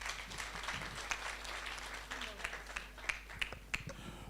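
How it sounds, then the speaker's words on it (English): Applause from an audience after a talk at a live-streamed event, a steady wash of many clapping hands with a few sharper individual claps standing out near the end. "Let's give him another round of applause."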